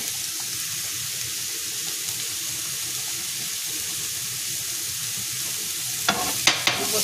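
Food stirred while cooking in a pan, a steady close sizzling hiss under soft scraping, with a few sharper knocks near the end and no talk.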